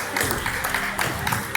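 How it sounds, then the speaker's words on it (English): A group of people claps steadily through a short stretch, dense overlapping claps with some voices mixed in, captured during a police arrest. "And they're clapping."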